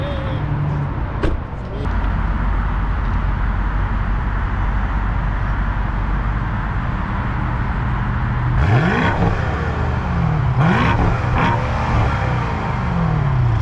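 BMW M550i with its exhaust resonator removed, idling in a steady low rumble and then revved in a few sharp rising bursts near the end, over a constant drone, with the engine heard from behind the car.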